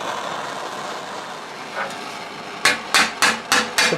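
Five sharp, ringing hammer blows in a steady rhythm shape steel plate for a Milanese mitten gauntlet in the style of about 1450, loud and close after a quieter stretch of workshop noise.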